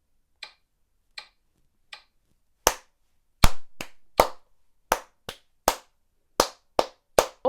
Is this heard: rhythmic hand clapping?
yes